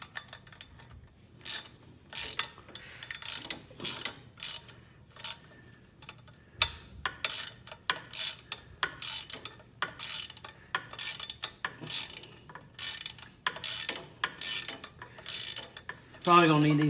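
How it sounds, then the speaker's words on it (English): Hand ratchet turning during repair of the hydraulic pedal return bracket on a Kioti CK3510SE tractor, a series of close, sharp clicking strokes in uneven bursts with short pauses between them, heard alone. "Must have turned that ratchet already."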